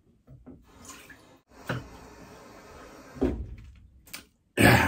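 Water running from a sink tap while a razor is rinsed and cleaned, a steady hiss of flow broken by brief clunks and knocks, ending in a sudden louder gush, no talking.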